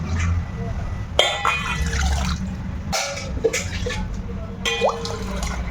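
Two glasses of water pour and splash into a bowl in a few separate bursts, with some dripping between pours, close by, while making ragi puttu.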